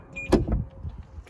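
A car's power window going up: a brief click followed by a short whirring motor hum, close by and fairly quiet, with no talking.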